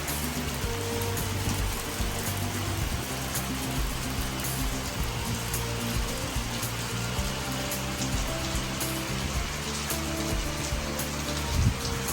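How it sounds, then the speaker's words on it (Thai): Rain pours steadily over a hillside camp at Phu Thap Boek in the rainy season, a dense, continuous patter on surfaces, loud and close, with no voices over it. "ฝนก็ตกลงมาแล้วค่ะ"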